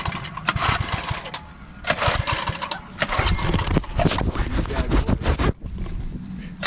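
A small gas engine on a dirt bike being rebuilt, with choke applied, sputters to life and runs loud and close, revving in uneven bursts with brief dips.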